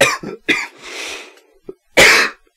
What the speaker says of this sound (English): That's a coughing fit.